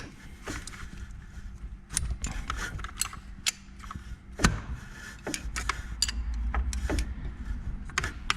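On an Opel Meriva 1.7 CDTI, a 17mm wrench loosens the bolt on the self-adjusting timing belt tensioner, giving close metallic ratchet clicks and sharp mechanical snaps over a low engine-bay hum.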